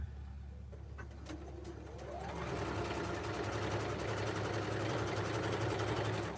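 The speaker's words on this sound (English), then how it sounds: "So, Robin, let's get these all stitched together." A sewing machine stitches fabric binding strips together for a small Valentine's heart project, its motor rising after a couple of seconds into a steady, close, continuous whir with rapid needle chatter.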